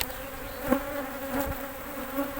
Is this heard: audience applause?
no